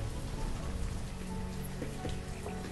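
Steady thunderstorm rain in the village-building game Banished, a dense, even patter of drops on surfaces with a low rumbling undertone, continuous and close with no voices.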